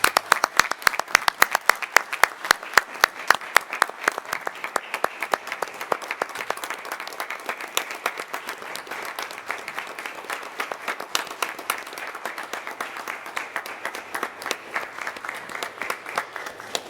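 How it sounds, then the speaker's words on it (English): Audience at a parish council meeting applauding, many hands clapping in a dense, sustained round that stays strong for well over ten seconds, tapering only slightly toward the end. "Can we give them a round of applause?"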